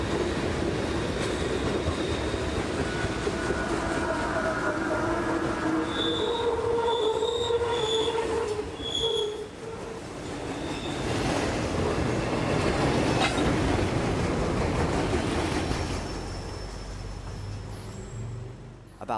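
A long freight train rolls past on the rails, wheels squealing loudly with steady clickety-clack over nearly twenty seconds, the rumble swelling and easing as cars pass close by.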